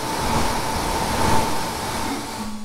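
Hotend cooling fan of a Geeetech A10M dual-extruder 3D printer, running as a steady, close airy whir with a faint constant hum and no pauses.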